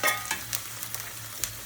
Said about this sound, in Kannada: ಸ್ವಲ್ಪ ಎಲ್ಲ ಫ್ರೈ ಆಗಬೇಕು ಚೆನ್ನಾಗಿ.